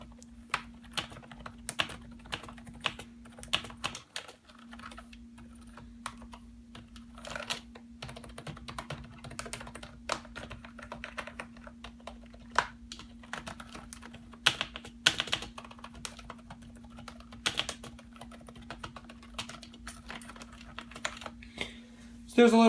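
Rapid clicky typing on a CM Storm Devastator gaming keyboard, close and crisp, with uneven bursts of keystrokes over a faint steady hum.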